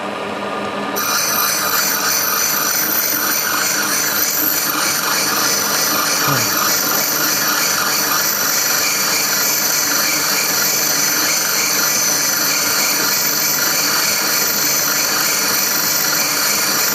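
Valve grinding machine steadily grinding an engine valve from a 1988 Jeep XJ, a continuous close, loud motorized whine and abrasive rasp that runs unbroken throughout with no talk.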